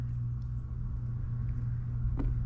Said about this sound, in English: Air conditioner just kicked on because it's 100 degrees outside